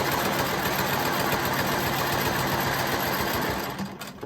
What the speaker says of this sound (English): I'm going to quilt around and back, making sure that I stop at that same point.